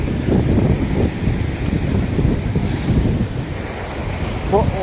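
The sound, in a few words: sea waves washing in at Goa beach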